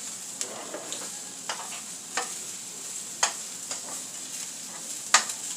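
Egg-dipped cinnamon French toast frying in a pan, a light steady sizzle with scattered taps and clicks of a spatula as the slices are flipped, moderate and close.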